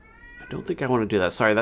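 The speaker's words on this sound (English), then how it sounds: "that's my cat yelling from the other room" A pet cat meows loudly from another room, its drawn-out cries overlapping someone talking close by.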